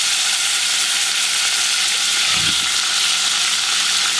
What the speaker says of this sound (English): Don't be afraid of the sizzle, it's just the water.